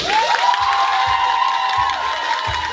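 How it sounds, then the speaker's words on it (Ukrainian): A full-hall concert crowd in Volodymyr cheers and whoops loudly and continuously, a high whistle riding over the roar and dull rhythmic thumps pulsing underneath. "Дайте оплески."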